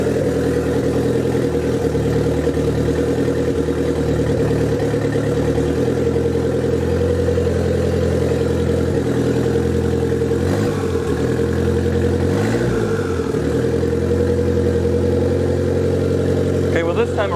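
A Nissan 200SX engine idles steadily and loud, a continuous low drone with harmonic hum that dips briefly around the middle, with a voice talking over it.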